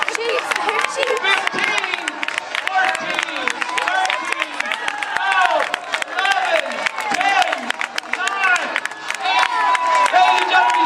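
A crowd at a Hagerstown Suns minor league baseball game cheers, claps and shouts in a loud, busy mix, with voices rising and falling and excited talk running throughout.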